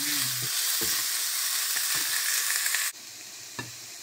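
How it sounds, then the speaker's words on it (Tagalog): Onion sizzles in a hot pan with steady frying crackle and occasional stirring scrapes, then drops to a quieter sizzle partway through, close and without talk. "Igisa ko na yung onion para mag-brown siya."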